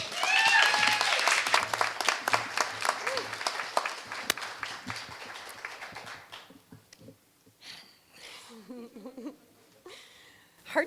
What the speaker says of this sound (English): So please give a round of applause for Brenda.